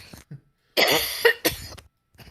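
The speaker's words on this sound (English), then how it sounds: "I'm about to cough." A person coughs indoors, a short hacking burst followed by a second cough and a faint throat clearing, close and fairly quiet, with brief breaths between.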